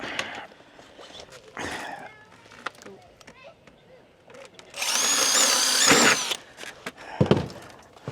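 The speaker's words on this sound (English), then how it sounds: "Like to pre-drill." Speech and workshop clatter, then a power drill whines loudly for about a second and a half while pre-drilling fascia on a house exterior renovation before stopping, with more talking afterward.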